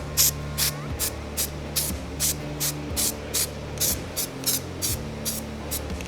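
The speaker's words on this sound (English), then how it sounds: "we've changed the contrast of this material, and as you can see we sprayed it white" An aerosol can of white contrast developer for non-destructive testing sprays in about fourteen short, even bursts, each a sharp close hiss separated by brief pauses, with no one talking.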